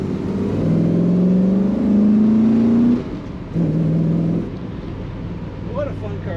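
A 1959 Chevrolet Bel Air two-door post rumbles under way, its exhaust note rising steadily through a gear, dropping briefly, then climbing again before settling, with a voice talking over it.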